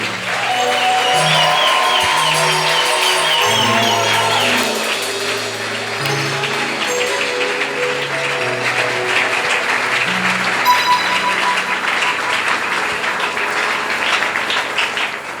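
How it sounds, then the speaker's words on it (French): A church congregation applauds strongly for Jesus, sustained loud clapping that runs under sung or played notes, near and full throughout. "Acclame très fort pour Jésus."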